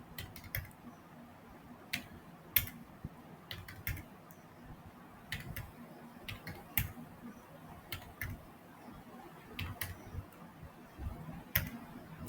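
Someone types stack elements into a program on a computer keyboard. The keystrokes are faint and irregular, falling in small clusters over a quiet background.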